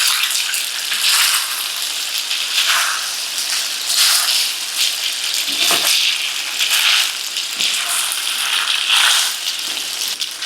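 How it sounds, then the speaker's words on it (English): Al dente pasta noodles tossed with pancetta in a frying pan for carbonara, a loud, close, continuous sizzle and hiss rising and falling in waves as everything is stirred, with no voices. "Place the noodles along with the pancetta. Stir everything around."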